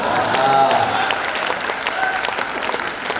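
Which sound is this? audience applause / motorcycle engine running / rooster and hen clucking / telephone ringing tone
audience applause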